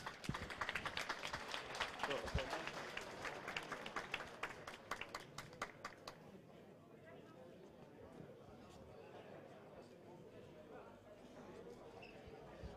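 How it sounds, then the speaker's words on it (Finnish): Gala audience applauding a karting champion, brisk clapping that swells then fades to scattered claps and murmur, moderately distant. "Annetaan aplodit Joakim Komaninen"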